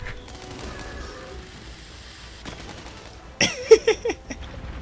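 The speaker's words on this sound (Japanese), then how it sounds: "なんかすごい花火打ち上げられてる。" A rapid barrage of bow shots and bursting hits in Monster Hunter World, fired against Nergigante, crackles like fireworks: a burst of sharp popping impacts near the end following quieter game noise.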